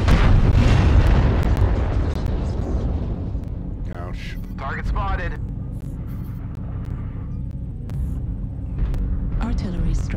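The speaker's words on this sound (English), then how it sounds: "artillery strike online." Artillery strike explosions in MechWarrior Online, the Marauder 2 mech game: a loud booming blast opens, decaying into a sustained low rumble with scattered later bursts and layered battle noise.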